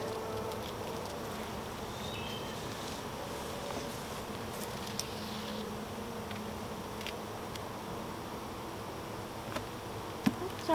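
Honey bees hum continuously around an open hive during an inspection of brood frames. The buzzing is soft and steady, with a few faint clicks and taps and no speech.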